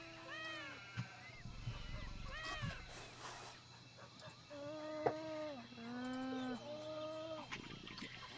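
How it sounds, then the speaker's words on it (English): Chickens in the game CHKN cluck and squawk in short repeated bursts, the calls rising and falling in pitch against a quiet background, with some rustling and thumps between the calls. "the many stream chicken noises. That's how you know we're playing"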